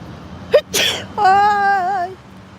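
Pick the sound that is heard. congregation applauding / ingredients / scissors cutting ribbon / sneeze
sneeze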